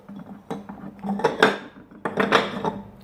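Blue and white ceramic kitchen dishes being handled, with several loud clinks and clatters of crockery and cutlery knocking together in quick irregular bursts, close by.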